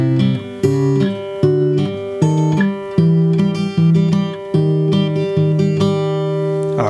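Acoustic guitar plays the verse section of a song, fingerpicked melody over a repeating bass pattern with steady plucked notes, close and alone with no singing or talk.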